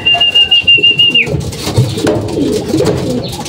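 A pigeon coos in soft, rhythmic pulses close by, with a thin whistle early on, then shuffling and rustling noises.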